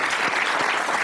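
Brief burst of studio audience applause on a television game show, a short, steady patter of clapping heard on its own.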